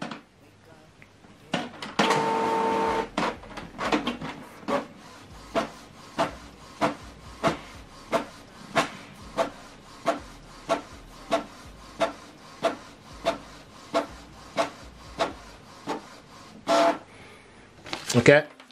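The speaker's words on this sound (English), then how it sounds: "Now it's preparing to print." Canon printer printing a document sent from an Android phone, a long run of evenly spaced mechanical clunks and whirs repeating roughly every half second, with a louder feed burst at the start and end.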